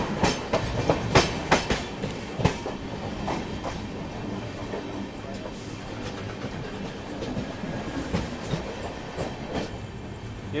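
The 20801 Islampur–New Delhi Magadh Express passes close by, its wheels beating out a rapid, irregular clickety-clack over the rails amid a continuous rolling rumble.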